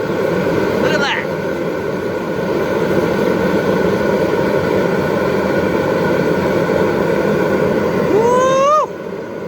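Roaring propane flame from a Hell's Forge burner, a steady broadband rush filling the whole stretch, with brief whistling squeals near the start and end and excited talk over it.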